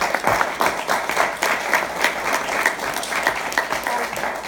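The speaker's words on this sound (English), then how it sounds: "how about a round of applause for the panel?" Steady applause from an audience at a social media influencer panel, dense continuous clapping that holds at an even level throughout, moderately close with a faint murmur of voices underneath.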